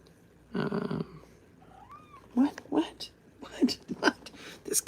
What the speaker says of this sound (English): This cat really does not want me.